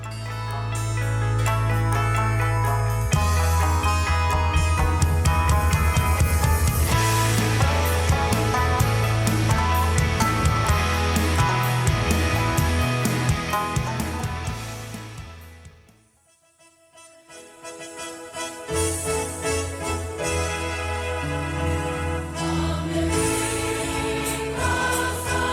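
Loud, full Afghan rock band music with heavy bass, drums and electric guitars, briefly dropping out midway before the band comes back in.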